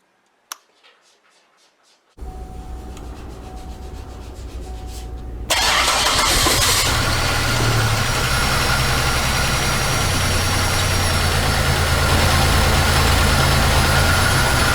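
A GM 3800 Series II engine cranks after a few faint clicks, then catches and keeps running rough and unsteady, a loud close drone that grows louder partway through, with no voices.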